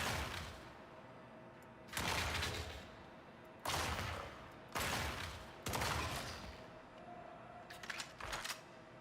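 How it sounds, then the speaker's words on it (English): A sci-fi weapon fires short bursts in the space game Star Citizen, several sharp clusters of shots spaced a second or two apart, fairly faint, with a tighter flurry near the end. "it only has a 3-round burst, which is not really 3 rounds"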